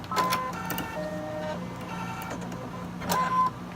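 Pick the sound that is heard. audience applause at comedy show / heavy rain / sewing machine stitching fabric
sewing machine stitching fabric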